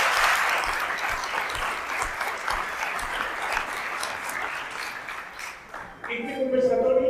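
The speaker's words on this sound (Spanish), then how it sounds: "Un aplauso entonces para mí." An audience claps in a steady, moderately loud burst of applause that drops away near the end, where a voice is briefly heard.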